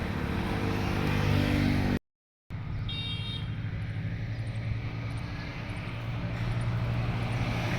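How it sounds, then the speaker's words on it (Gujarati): A tractor engine drones steadily nearby, broken by a brief moment of silence before the low, even hum resumes with faint higher tones above it. "ટ્રેક્ટર લઈને આવી ગયા"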